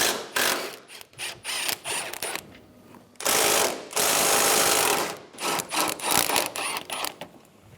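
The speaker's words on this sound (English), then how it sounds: "Using a 14mm socket, remove the top 3 nuts on the strut." Ratchet wrench with a 14mm socket loosening the three top strut nuts under the hood of a 2010-2015 Lexus RX350, with rapid close clicking bursts broken by short pauses, no talking.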